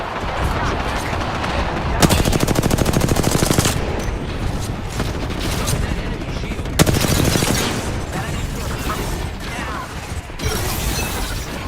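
Rapid automatic gunfire from the battle royale video game Apex Legends during a Cyberpunk 2077 crossover event, in two dense bursts of fast shots over a busy game soundscape.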